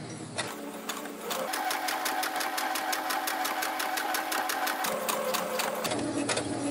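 A sewing machine stitches a dart in fabric, running at a steady fast rhythmic whir for about five seconds before stopping, loud and close, with no talking.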